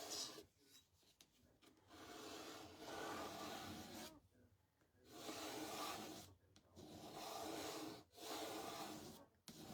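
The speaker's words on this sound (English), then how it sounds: "Now we're going to take our scraper and we're going to scrape it" A scraper rasps across painted wood, lifting dried paint and wax in repeated close strokes of a few seconds each, separated by short pauses.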